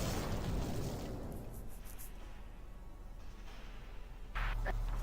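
A mortar shell explodes in the Valkyria Chronicles video game, with a loud broad boom at the start that decays into a rumbling tail, then a second blast burst near the end.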